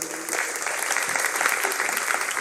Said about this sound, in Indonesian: Tepuk tangan rumiyin.